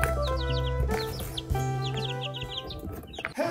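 Young chicks in an indoor brooder cluck and peep, repeated short calls over a steady low hum from a space heater, fairly close and moderately quiet, with no talking.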